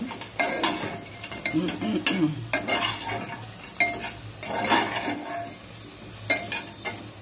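Lentil dumplings (bori) tossed into a pan with a bitter gourd and vegetable mix, giving a steady close sizzle broken by repeated scraping stirs and spatula knocks against the metal, with no talking.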